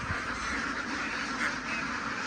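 A dense, steady clamor of many laying ducks quacking together, a constant flock noise with no pauses and no talking.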